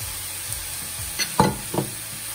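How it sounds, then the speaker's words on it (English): Frozen vegetables hit a pan already holding mushrooms and tofu pork for vegan fried rice, giving a few soft stirring scrapes and brief sizzling bursts over a quiet background, with no talking. "Next, we're going to add the frozen vegetables"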